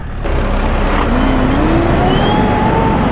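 A 2025 BMW 1300 GSA motorcycle pulls away in gear, its engine a steady, loud drone with a rising pitch as it accelerates. It carries on continuously through the whole stretch with no talking.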